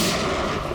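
A brief, dense burst of gunfire in a police drama shootout, loud and booming with no voices over it.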